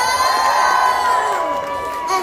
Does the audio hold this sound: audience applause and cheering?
yes